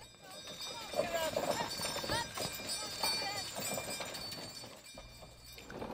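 Team of mules hauling heavy borax wagons weighing nearly 10 tons uphill, hoofbeats clopping irregularly amid crowd chatter and wagon rumble, steady and moderately close throughout.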